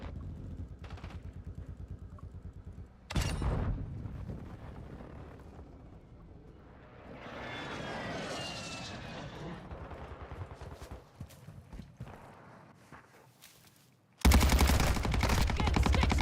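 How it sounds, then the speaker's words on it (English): Airstrike in a military shooter video game: loud bursts of gunfire open and close the stretch, with a rising roar of incoming aircraft and explosive rumble swelling in the middle, heavy and continuous. "Hostiles called in an airstrike."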